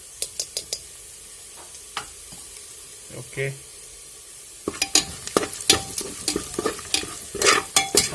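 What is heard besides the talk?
onions and whole cumin frying in oil, being stirred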